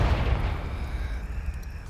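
Confringo spell blast from the Hogwarts Legacy video game, one loud burst at the start trailing into a rough rumbling decay, with no talk over it.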